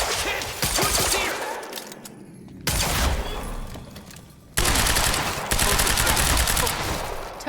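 Sustained bursts of automatic gunfire from a Quantum Break firefight, loud and close, with dense rapid shots broken by short lulls and sudden loud resumptions.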